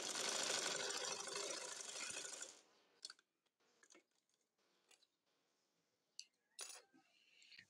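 A sewing machine stitches a two-colour Naira dress in a dense, buzzing run for about two and a half seconds, then stops, leaving a few scattered handling clicks and knocks.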